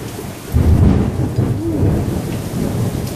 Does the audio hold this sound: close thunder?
yes